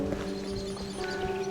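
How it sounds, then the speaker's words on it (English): A horse near a playing field in the Cotswolds, with steady clip-clop hoofbeats under a constant outdoor wash. "Here's a good horse."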